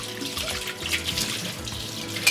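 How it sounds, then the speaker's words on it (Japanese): Running water trickles and splashes off the slanted slope of a dish drainer rack in a kitchen sink, a steady close, moderately quiet wash of flowing water with no talking. "斜めのスロープのところからお水が流れて水が溜まらない"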